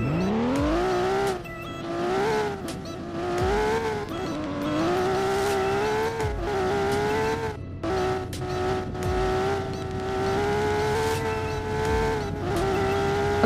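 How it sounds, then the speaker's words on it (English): A fast super car accelerates hard with a loud, continuous engine drone that rises and falls in pitch through repeated gear pulls, with a whooshing turbo character and intermittent sharp clicks over the steady roar. "I just heard like a turbo sound."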